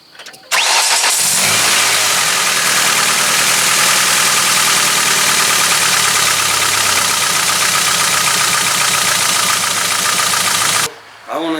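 A Ford ZX2 engine with failing Champion spark plugs revs loudly and continuously, with a rough, spitting note throughout, close to the microphone, for about ten seconds before dropping off.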